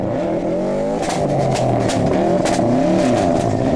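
A Subaru Impreza rally car, the 2002 Production Cup winner, at the Donegal International Rally, its engine roaring loud and close while revving up and down through gear changes, with a faint tire squeal.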